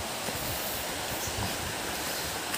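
A river flows in a steady, full broadband rush of water that stays even and close throughout, with no voices.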